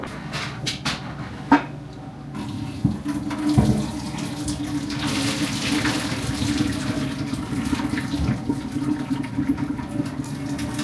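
Water from cooked spaghetti noodles is poured off into a kitchen sink, making a rushing, splashing flow that begins after a few clattering knocks and then runs continuously for several seconds, close by and without speech.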